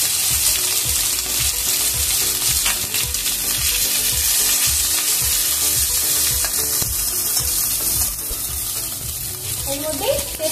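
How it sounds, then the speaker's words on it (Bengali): Morola fish crackles and spits in hot spluttering mustard in a pan, a loud, continuous, close-up frying sizzle with rapid pops throughout, easing slightly near the end. "সরষেটা ভালো করে ফুটে গেলে এর মধ্যে মাছটা দিয়ে দিচ্ছি।"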